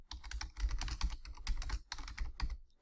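Rapid typing on a computer keyboard, a close, dense run of crisp key clicks in quick irregular bursts with a brief pause midway, no voice.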